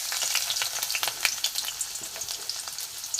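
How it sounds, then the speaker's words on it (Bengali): Chopped onion and green chilli fry in hot mustard oil, a dense crackling sizzle with scattered sharp pops and light stirring, close and steady, with no voices. "পেঁয়াজ কুচি, কাঁচা লঙ্কা একসাথে দিয়ে দিলাম। দিয়ে আমি একটু ভালো করে ভেজে নেব।"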